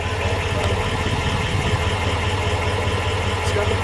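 A 1965 Plymouth Barracuda with a Commando 273 V8 and single performance exhaust idling close by, a steady low rumble with even pulsing and no talk.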